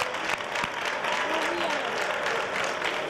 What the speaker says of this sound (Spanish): Vamos a recibir con un fortísimo aplauso a esta gran artista bailadora de nuestra ciudad,